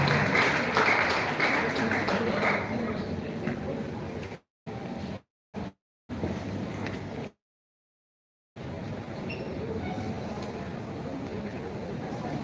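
Audience clapping at a live anniversary event for the 1929 Aba Market Women's Riot, a steady dense patter of many hands that breaks off in a few abrupt gaps, with no voices over it.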